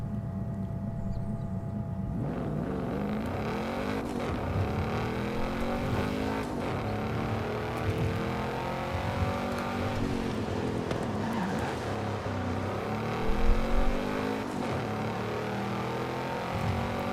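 A Ferrari in a racing video game drives with a continuous engine drone and revs that rise and fall steadily, with a brief louder burst near the end.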